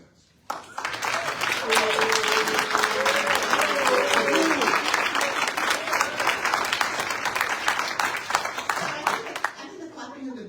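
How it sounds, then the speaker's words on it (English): A town hall audience breaks into loud sustained applause mixed with clapping and booing, with voices in the crowd throughout and the noise easing slightly near the end. "I think the clapping and the booing is actually what the statistics show"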